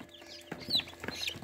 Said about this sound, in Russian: выводился цыплята на инкубаторе